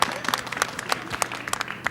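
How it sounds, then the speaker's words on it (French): Audience applause for a game show team scoring 125 points, with scattered, uneven claps and sharp individual hand strikes at moderate volume. "on vous applaudit très fort"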